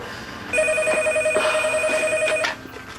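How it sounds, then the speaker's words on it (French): An indoor telephone bell rings in one steady, loud trill lasting about two seconds, then stops, with faint room noise around it. "pourquoi le téléphone sonne toujours au mauvais moment?"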